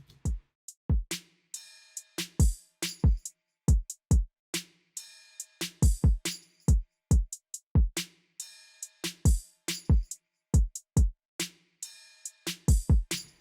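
A sparse, punchy soul/R&B beat with heavy distorted kick hits and snappy percussion in a laid-back groove, with soft tonal layers between hits, no voices.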